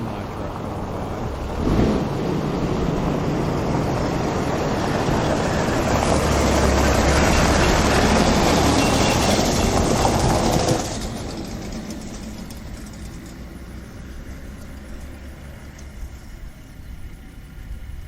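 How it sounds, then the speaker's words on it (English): A semi-truck roars past near an oil well pulling unit, its engine and road rumble swelling loudly for several seconds, then fading away into a quieter hum. "Semi-truck going by."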